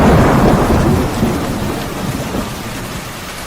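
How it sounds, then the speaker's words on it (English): A thunderstorm roars close by, a loud rolling thunder peal fading slowly over heavy rain drumming on surfaces, with no voices. "This storm's trying to take us back."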